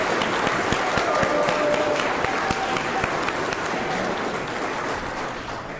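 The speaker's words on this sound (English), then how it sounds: "Put a round of applause for lunch." Sustained audience applause at a medical conference luncheon in Toronto, dense steady clapping from a large crowd throughout, staying loud and even to the end.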